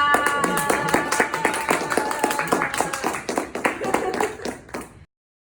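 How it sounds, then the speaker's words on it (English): Crowd applause for a chef at a market, uneven hand claps with sharp individual taps over a steady clatter, fairly close and lasting about five seconds before cutting off abruptly. "Just give an applause to him."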